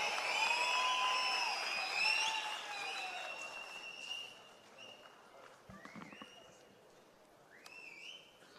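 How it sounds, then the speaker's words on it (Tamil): An audience at a Tamil political function gives moderate, fairly faint applause with shrill whistles mixed in, which fades to scattered sound toward the end. "உயர்திரு எடப்பாடியார் ஐயா அவர்களை உங்களின் பலத்த கைத்தட்டலோடு வாழ்த்துரை வழங்க அன்போடு அழைத்து மகிழ்கின்றேன"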